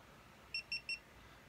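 A GoPro camera beeps three times in quick, evenly spaced succession as it powers on, crisp and close against faint background hiss.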